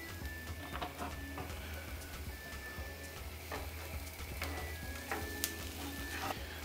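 Pasta frying in oil in a pan while being stirred, a soft constant sizzle broken by light scraping and clicking strokes of a utensil against the pan.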